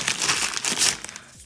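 A plastic packet holding high-viscosity slime glue base with glitter is crinkled and handled, giving a quick burst of close, bright rustling crackles that fades out within a second and a half.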